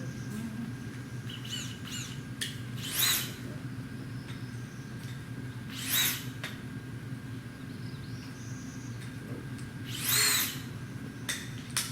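Three short whirring bursts of a power drill fitted with a hay probe come at spaced intervals over a low background hum, with faint bird calls in between.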